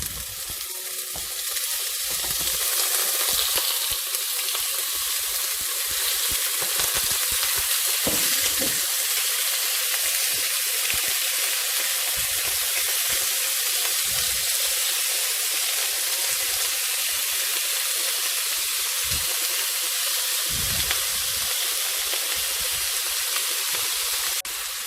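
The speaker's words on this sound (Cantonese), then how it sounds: "煎一煎呢啲排骨" Pork ribs pan-fry in a wok with a continuous, dense sizzle and spatter that stays loud and even throughout, broken by occasional soft knocks from handling in the pan.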